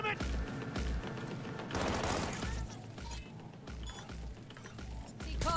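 Gunfire in the video game Cyberpunk 2077 Phantom Liberty comes as dense rapid bursts and fusillades over mechanical clatter, loud and continuous, with game voices mixed in.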